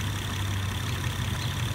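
The six-cylinder engine of a 2012 Acura TL idles with a steady low hum and broad mechanical wash, constant in level and heard up close without speech.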